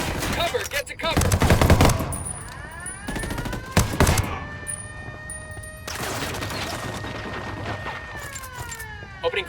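Bursts of automatic gunfire in the Ghost Recon Wildlands video game, loud rapid volleys broken by pauses, with ringing tones and shouted voices in between.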